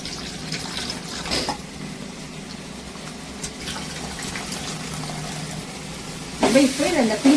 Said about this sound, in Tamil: புளி இந்த மாதிரி கரைச்சி நம்ம வெடிகட்டி அதுல ஊத்திடுவோம்.